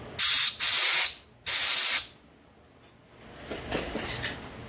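Compressed air blown in three strong bursts through a part of a Kohler Command Pro 25 engine on a Great Dane zero-turn mower, loud and close, then a quieter stretch of faint hissing and handling noise.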